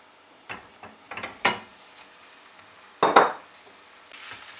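Mutton, about 700 grams, hitting a hot pan of browned sliced onions for a mustard mutton curry, giving scattered clattering bursts and a loud sizzling hiss near the middle, close and without talk.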